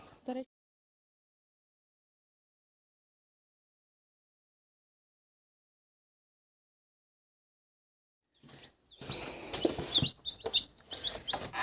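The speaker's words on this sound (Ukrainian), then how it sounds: "Тут, дивіться, вже є також вісім курчаток" After a long silence, day-old Black Cochin chicks and hens cluck and chirp close by in a busy, uneven burst of short calls.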